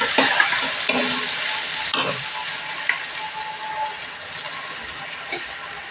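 Tomatoes hit a hot pan of spiced chicken and chickpeas and set off a loud, steady sizzle, with occasional scraping stirs and small clatters over the continuous frying hiss.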